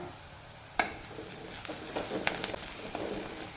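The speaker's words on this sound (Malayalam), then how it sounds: "ഒരു ചെറിയ കഷ്ണം ഇഞ്ചി നീളത്തിലരിഞ്ഞത് മൂന്ന് പച്ചമുളക് നീളത്തിലരിഞ്ഞത് ഇത്രയും നമുക്കൊന്ന് വഴട്ടിയെടുക്കാം" Sliced ginger, green chillies and onion sauté in a pan, with a low continuous sizzle broken by several sharp clinks and scrapes of a spoon stirring against the metal.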